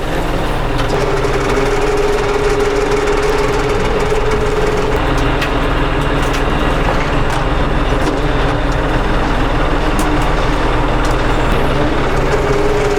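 A tractor engine runs steadily and loudly nearby, a continuous droning rumble with no breaks.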